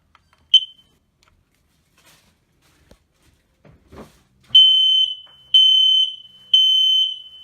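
A combined smoke and carbon monoxide alarm in an RV trailer sounds its test, three loud, piercing shrill beeps in steady rhythm after a click and some handling noise.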